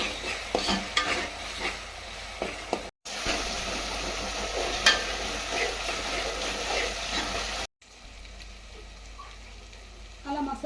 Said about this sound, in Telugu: మసాలా వేగుతుంది కదండి